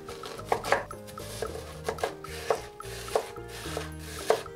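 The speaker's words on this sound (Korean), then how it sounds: "배를 잘라 씨를 빼주고 잘라주세요." A knife chopping a peeled, cored pear on a wooden board, making a series of sharp, close, evenly spaced thunks with one or two quick double taps and nobody talking.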